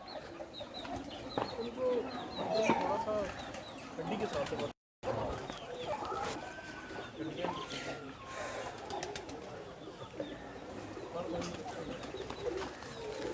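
Roosters and chickens kept by a bird fancier cluck and call in a yard, alongside cooing pigeons, with overlapping bird voices and a person speaking in the background; the sound cuts out briefly midway.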